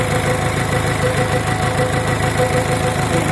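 The common rail diesel engine of a Komatsu PC60-7 excavator runs at a steady idle, a loud, even rumble with a faint rhythmic knock, heard up close with no talking.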